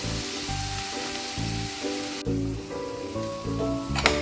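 Carrots and peas sizzle in a pan for oats khichadi, a steady soft frying hiss running continuously beneath faint background music.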